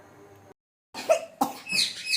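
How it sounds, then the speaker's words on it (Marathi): A small girl coughs a few times indoors, short harsh bursts after a brief silence, close and fairly loud. "खोकला येतो गो माझ्या राणीला."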